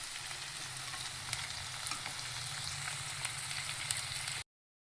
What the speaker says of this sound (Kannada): ಈರುಳ್ಳಿ ಚೆನ್ನಾಗಿ ಫ್ರೈ ಆದಮೇಲೆ ಮಾತ್ರ, ಕೆಂಪಗೆ ಮಾತ್ರ ಆಗಬಾರ್ದು.